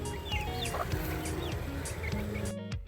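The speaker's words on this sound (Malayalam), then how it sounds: "കോഴികൾ ഇതാ നമ്മുടെ സ്റ്റെപ്പിൽ കയറി വന്നിട്ടുണ്ട്" Chickens cluck steadily nearby, with small birds chirping in the background and a low rumble underneath.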